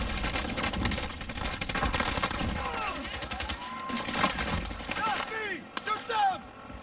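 Rapid automatic gunfire in the Warzone video game rattles in dense, loud bursts with scattered single shots and whooshing effects, close and continuous, and some voice chatter is mixed in.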